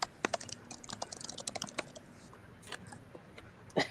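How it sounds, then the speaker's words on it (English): Someone types on a computer keyboard in a quiet room, with irregular clusters of light key clicks and a louder tap near the end, close and unaccompanied by speech. "We can hear Rebecca typing"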